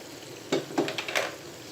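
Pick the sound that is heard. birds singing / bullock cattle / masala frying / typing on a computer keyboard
masala frying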